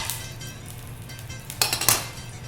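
A pan is set up for making meat sauce for papoutsakia, giving a steady low kitchen hum with a couple of brief, bright metallic clanks near the end.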